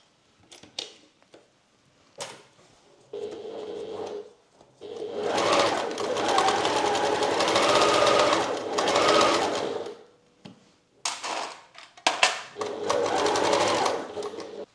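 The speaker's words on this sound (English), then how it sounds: "So we're gonna stitch it together and then we stitch the other side." A sewing machine stitches a fabric bag in a small upcycling workshop, running in several bursts of steady whirring with short pauses and clicks between them.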